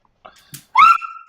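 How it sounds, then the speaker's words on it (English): A dog gives a single short, high, whining bark, close and fairly loud, preceded by a couple of faint soft noises in otherwise quiet surroundings. "That was my dog"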